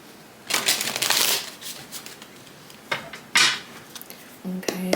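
Two bursts of rapid riffling tarot card shuffles, close and crisp, separated by quieter handling and a few light taps near the end.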